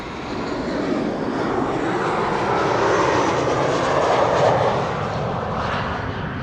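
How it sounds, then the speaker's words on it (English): A KLM Embraer 190 jet arriving at Amsterdam Schiphol Airport from Prague fills the air with a loud, steady engine roar that swells slightly toward the middle as it passes close by. "KLM flight 1354 arriving from Prague in the Czech Republic,"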